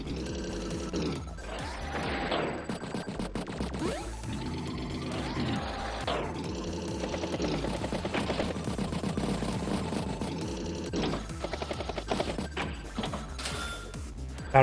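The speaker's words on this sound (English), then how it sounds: "Medium tank being struck repeatedly." Rapid mechanical gunfire bursts and crashing impacts from a medium tank under repeated attack in the Advance Wars video game, set over looping chiptune-style battle music at moderate volume.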